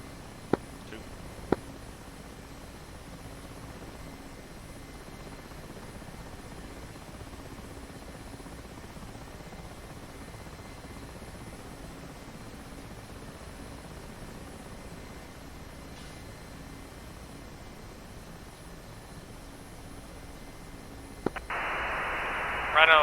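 A Ka-50 Black Shark attack helicopter taxis in a flight-simulation game, its rotor and engine making a steady low drone with faint radio static, a couple of short clicks early on, and a sharp burst of noise near the end.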